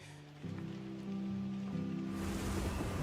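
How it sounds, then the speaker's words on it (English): Heavy rain in Monster Hunter Wilds sweeps over a forest as a downpour begins. A steady, loud hiss rises and fills the last second, following a low sustained droning tone. "Downpour"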